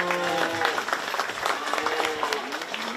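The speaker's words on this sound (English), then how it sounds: "so if we could give them a round of applause." A crowd at a county fair gives a round of applause, a short burst of clapping mixed with voices and talk.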